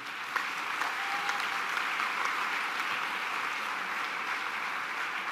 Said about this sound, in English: I think we can give you a massive round of applause.